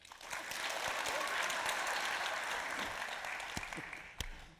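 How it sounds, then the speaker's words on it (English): A live audience claps steadily in response to a true-or-false quiz question at an on-stage conversation event, the applause swelling and then thinning to a few scattered claps near the end. "Applause for false."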